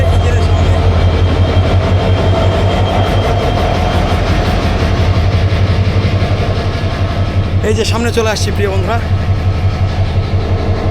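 The Burimari Express locomotive idles close by with a steady, deep, throbbing drone. Someone talks over it partway through.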